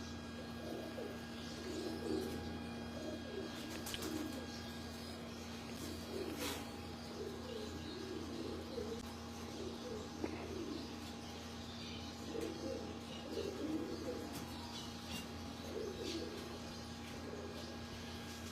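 Pigeons coo softly on a Lahore rooftop, low repeated burbling calls running through a steady faint background hum, distant and with no voices.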